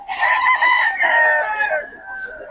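A gamecock rooster crows once, loud and close, in a long harmonic call that trails off, with faint background noise at a cockfighting bird sale.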